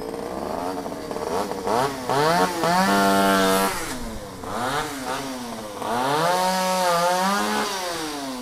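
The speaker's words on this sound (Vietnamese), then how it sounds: "máy cưa từ an giang đem lên nha các cô chú" A chainsaw brought from An Giang trims small tree branches, its engine loud and close, revving up and down in repeated surges as it bites into the wood, with no talk over it.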